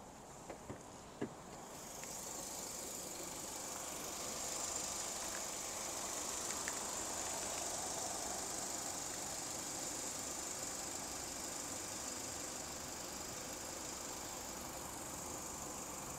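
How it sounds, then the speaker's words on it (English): A Moskvich 3 car engine idles with the bonnet open, a faint, steady hum and whine that begins after a couple of soft clicks and runs evenly to the end. "Let's listen to the sounds of the engine under the bonnet."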